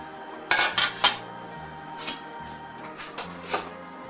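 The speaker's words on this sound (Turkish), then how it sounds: "İrice doğradığım patatesleri tencereye ilave ediyoruz" Chopped potato chunks drop into a metal pot one after another, making a few hollow clunks and knocks, up close and otherwise quiet.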